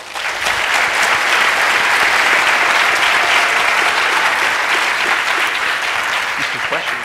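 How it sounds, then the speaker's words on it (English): Sustained applause from a tech event audience after a startup talk, loud and dense throughout, with no break. "A round of applause for you guys."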